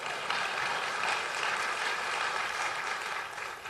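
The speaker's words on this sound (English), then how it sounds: "And if you can clap for that," An audience at a political summit gives steady, even applause, a dense hiss of many hands clapping that holds at moderate loudness throughout, with no voices over it.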